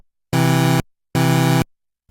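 Two sustained synthesizer notes, each a dense chord of 16 layered voices split 8 and 8 across two parts, sounding loud and buzzy for about half a second apiece with a short gap of silence between them.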